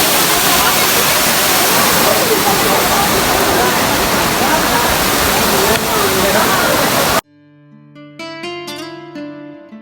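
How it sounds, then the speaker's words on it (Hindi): A tall waterfall in Muzaffarabad, Azad Kashmir, roars loudly and steadily for about seven seconds before the sound cuts abruptly to music. "ये चेक करें जी, काफ़ी ऊँची आबशार है।"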